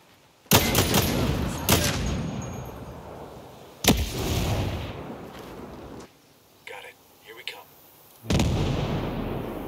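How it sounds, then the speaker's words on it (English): Gunfire and explosive blasts from the Ghost Recon Breakpoint military shooter video game, with sharp reports and a couple of heavy booms during a firefight, interspersed with quieter gaps and short bursts. "Grenade time!"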